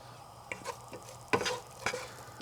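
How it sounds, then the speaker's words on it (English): Chopped onion sautéing in a pan with Serrano pepper for Persian lentil soup, a soft low hiss broken by a few brief scraping stirs, faint and close. "onion is going to be sauteed nicely"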